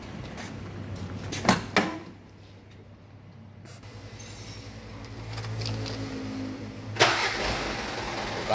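A car engine cranks and catches straight away on a newly replaced battery, then settles into a steady idle, preceded by a couple of sharp clicks and clunks close by.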